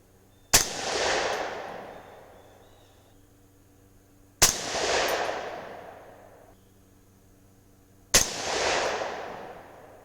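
Three loud .308 Winchester rifle shots firing 165-grain Hornady GMX ammunition, evenly spaced about four seconds apart, each a sharp crack followed by a long echoing decay outdoors.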